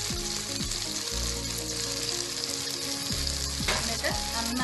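Green chilies, curry leaves, crushed garlic and ginger sizzle loudly in hot oil for a Kerala-style beef curry, a continuous close frying hiss with occasional stirring scrapes.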